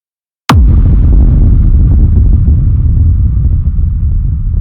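A single hard-clipped hard techno rumble kick hits with a sharp punch, then a dense, distorted low rumble rolls on and sustains loudly to the end with no other sound.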